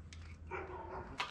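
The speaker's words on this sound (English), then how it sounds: "Dog started barking out of nowhere." A dog gives a couple of short, quick barks in a quiet indoor space, one at the start and a sharper one near the end, fairly faint and with nobody talking.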